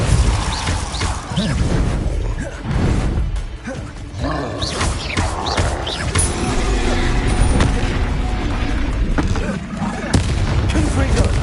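Repeated Confringo fire-blast spell explosions from the video game Hogwarts Legacy, heavy booming bursts and crashes following one another in quick succession, loud and dense throughout, with other game effects mixed in.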